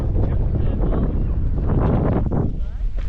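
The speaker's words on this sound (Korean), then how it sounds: "바람 진짜 많이 분다" Strong wind gusting outdoors by the sea, roaring low buffeting across the microphone throughout, loud and continuous, with people talking under it.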